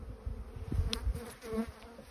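Honeybees buzz around an open beehive during an inspection, a steady, close hum of many wings with a few louder passes near the listener.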